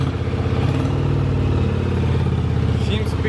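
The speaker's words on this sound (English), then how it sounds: "All right, so bike's running. She's running smooth." A Yamaha Virago motorcycle engine idles smoothly and steadily up close, a continuous low throbbing rumble with no breaks, heard alone.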